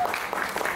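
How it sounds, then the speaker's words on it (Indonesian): Applause from an audience at an open presidential campaign event for a 2015 student election, a brief burst of steady clapping heard alone. "Tepuk tangan dong untuk mereka semua"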